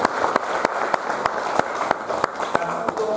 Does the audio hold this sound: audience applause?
yes